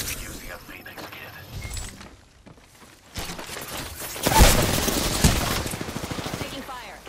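Rapid automatic gunfire rattles in a shooter game, starting in sporadic bursts and then swelling into a loud, dense barrage of overlapping shots with cracks and impacts, with voices speaking over the fight.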